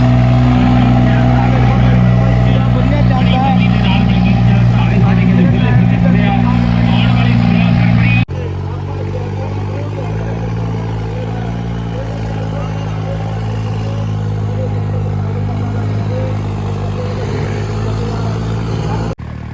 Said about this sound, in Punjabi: ਇੱਥੇ ਆ ਕੇ ਪਤਾ ਲੱਗਦਾ ਟਰੈਕਟਰ ਦੇ ਜ਼ੋਰਾਂ ਦਾ